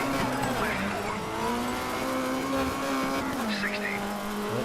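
An off-road buggy engine in the Dirt 3 racing game holds a loud, steady drone that wavers and dips in pitch as it stutters, with faint tire squeal and skidding mixed in.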